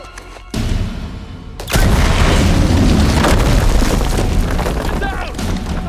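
A loud explosion in the Uncharted video game goes off after a shouted warning, its deep boom swelling into sustained rumbling debris and gunfire-like crackle that fills the rest of the scene.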